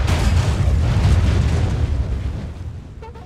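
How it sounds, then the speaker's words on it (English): Heavy artillery fire booms in the Napoleonic-era strategy game Napoleon: Total War, a dense rumbling cannonade of overlapping blasts that rolls loudly for a few seconds and then fades away. "Redirect artillery fire."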